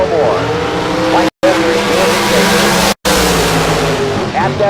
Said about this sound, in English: At that finish line, you heard Coulter roll out of that throttle.